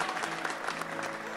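Studio audience on the tvOne talk show with Norman Kamaru claps in a brief, dense burst of many hands, steady and fairly close for just over a second.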